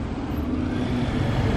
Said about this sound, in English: Guys, look, the Vanquish S Volante. Oh, the noise.